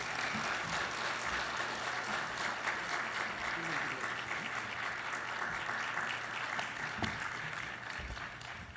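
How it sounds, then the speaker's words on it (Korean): Warm, sustained applause from a church congregation welcoming the pastor at a New Year revival service, dense and steady throughout with a faint voice or two beneath it. "뜨거운 박수로 모시겠습니다."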